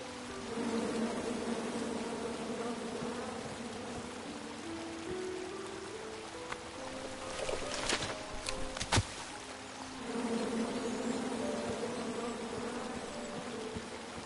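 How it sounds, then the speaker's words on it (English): Angry bees buzz in a video game: a steady, dense droning hum that holds throughout, with a brief dip partway and no speech. "Come at me, bees!"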